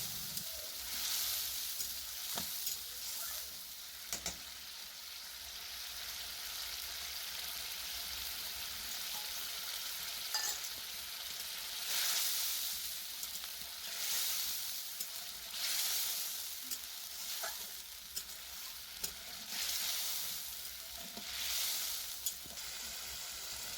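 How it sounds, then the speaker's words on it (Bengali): Spice paste with a splash of water frying in a pan for a yogurt fish curry, a steady bright sizzle with occasional soft stirring scrapes, continuous and close throughout. "দিয়ে আরও কিছুক্ষণ মশলাটাকে ভালো করে কষে নেব।"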